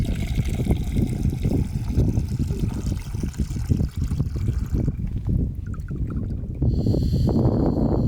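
Water poured for coffee at a cold, cloudy bikepacking camp high above Drumochter, a steady trickling pour with soft splashes and rustling, continuous and close for about eight seconds without talk.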